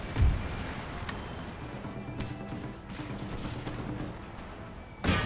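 Musket volleys fired by infantry lines in the Napoleonic-era strategy game Empire Total War: a distant, rolling crackle of gunfire over a battlefield rumble, with a sharp, louder burst at the start and another at the end.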